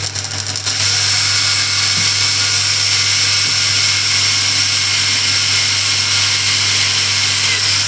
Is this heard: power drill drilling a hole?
yes